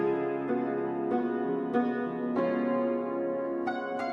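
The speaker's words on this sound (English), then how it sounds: "When I recorded the demo, I just wanted to have the piano recorded" Solo piano recorded with a single microphone over it and doubled into a stereo image, playing sustained chords with a handful of distinct note attacks spaced about a second apart, steady and fairly close.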